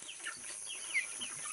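A native chicken clucks faintly at a distance, giving a few short, soft calls over a quiet background.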